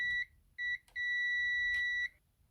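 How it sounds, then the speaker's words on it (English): A multimeter gives a continuity test on a good fuse from a Game Gear board, sounding a few sharp electronic beeps: two short chirps, then one longer steady tone, clean and close. "we know it's good if it beeps like this"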